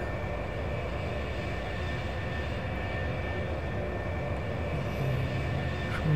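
A light aircraft's engine at full throttle on the takeoff roll, a loud, steady droning roar heard from inside the cabin that rises slightly toward the end.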